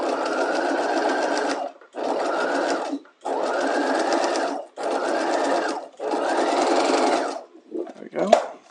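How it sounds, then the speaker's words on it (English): Sewing machine stay stitching across the top of fabric for an inverted box pleat, running in five steady bursts of rapid mechanical whirring separated by short pauses, close and loud, with a brief rustle of handling at the end. "I'm going to go to the sewing machine and I'm just going to stay stitch across the top to hold that in place."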